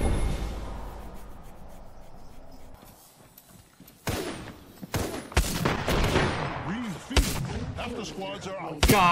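Gunfire from the video game Apex Legends: a quiet stretch, then a run of loud, sharp shots and bursts with sweeping whooshes and impacts, close and dense in the second half.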